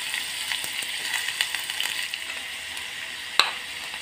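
Finely chopped onion and curry leaves fry in a pan for egg pocket rolls, a soft, moderately quiet sizzle with light scraping taps, ending in one sharp clink.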